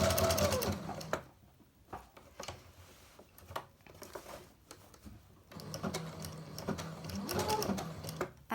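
Sewing machine stitching fabric appliqué backed with bondaweb, running in steady bursts at close range with a short quiet pause in the middle while the work is turned at a tight corner.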